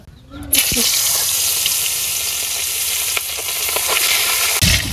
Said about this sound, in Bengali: এখন মাছটা ভাজাবো এই দিম।